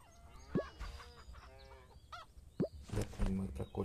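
Cartoonish farm chickens in the Hay Day mobile game give short squawks and clucks, a few separate bursts with gaps between them, fairly close and clear, with a faint voice talking underneath.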